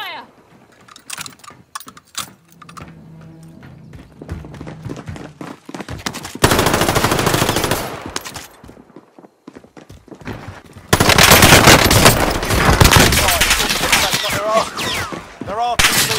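Gunfire in a video game's gulag fight, with sporadic shots and clicks early, then two long stretches of loud dense rapid firing, mixed with keyboard tapping and brief voice.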